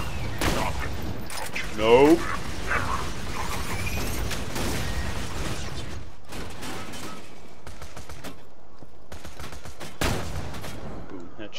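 Rapid gunfire from Borderlands 2, with a sharp burst early on, scattered shots and clatter through the middle and a further crack near the end, while someone briefly speaks over the action.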